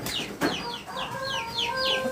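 Chickens on a small home farm cluck and squawk in repeated short calls, close by, with a thud in the background and no talk.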